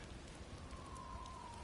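Steady storm rain hisses in the game God of War Ragnarok, a dense, even wash of drops on surfaces with a faint tonal whine drifting through, no voices.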